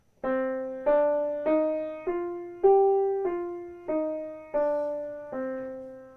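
Eight sustained instrumental notes of a minor five-finger pattern, struck one after another, climb up and come back down, each ringing and fading before the next.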